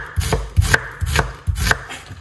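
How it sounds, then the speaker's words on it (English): Knife chopping a white onion on a cutting board, close and loud, about five evenly spaced firm thuds each with a crisp slicing crunch, no talking. "So when I cut a white onion, I like to just use everything."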